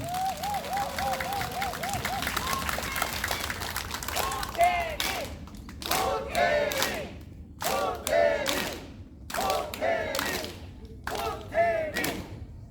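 Bursts of clapping and crowd cheers at a rural election campaign rally for citrus farmers, several short rounds separated by pauses, following a speaker addressing the gathering.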